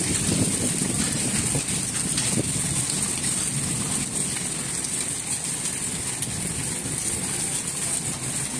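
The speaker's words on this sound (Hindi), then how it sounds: "बिजली बड़ी कड़क रही है" Steady rain pours down during a sudden storm after hot weather, a dense close hiss with low rumbling thunder underneath, continuous and fairly loud with no talk.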